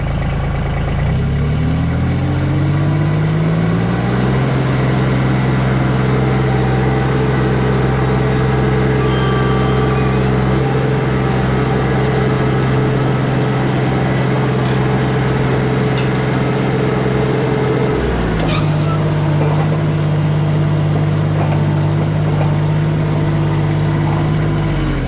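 A Scag Jackal skid steer's engine runs loud and close with a steady droning hum, its pitch and load shifting briefly near the end before it settles back to an even run.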